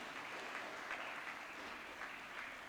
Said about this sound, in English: A round of applause as he comes on stage.